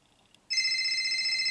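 A telephone rings with a steady electronic trill that starts abruptly and continues loudly and evenly, alone without talk.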